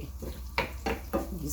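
Rasta pasta sizzles softly in a hot frying pan, a steady low hiss broken by a few scraping stirs, with a voice speaking over it.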